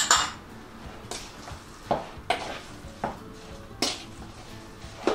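Homemade beef burger mixture being mixed in a bowl with pepper and seasonings, heard as a run of sharp, irregular clinks and scrapes, close and fairly quiet, with no talking.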